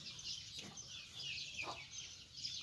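Laying hens in a coop with nesting boxes cluck softly and intermittently, a few low calls close by over quiet background noise.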